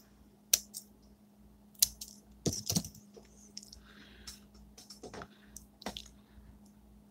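Wire is snipped off bead dangles in a few sharp, close clicks spread out over several seconds, set against a faint steady hum in a quiet room.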